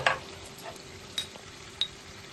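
A spoon scrapes and clinks against a pan while chicken with ginger paste and spices for gongura chicken is stirred, a few soft separate knocks over a faint sizzle.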